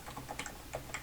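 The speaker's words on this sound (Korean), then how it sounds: "키보드 입력, 엔터." Keystrokes on a computer keyboard during photo-editing work, a few soft clicks in irregular bursts, close and quiet with no talking.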